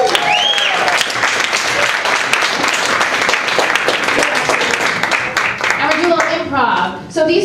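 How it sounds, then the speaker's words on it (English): A comedy club crowd at Carolines applauds during the Divorce Diaries show as Gerald is called to the stage: loud, dense, sustained clapping mixed with crowd voices, dropping off briefly at the very end. "give a round of applause for Gerald."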